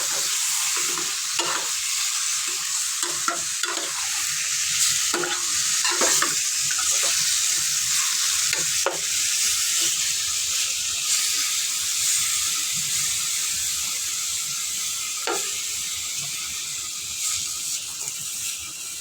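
Beef sizzles steadily in a hot pan, cooked Pakistani style, with a constant frying hiss and scattered scraping clicks of a utensil stirring the meat, close up and without any voices.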